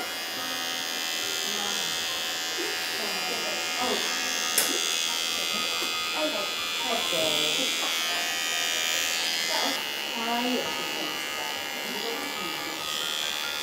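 An electric clipper grooms a Persian cat with a steady, close, unbroken buzz that runs the whole time while people talk softly over it.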